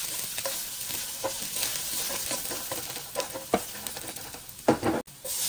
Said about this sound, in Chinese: 热油后爆香姜片和蒜末